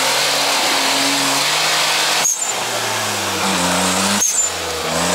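A Suzuki Jimny off-road vehicle's engine revs loud and close in shifting pitch steps during an off-road outing, with a brief dip about midway before climbing again.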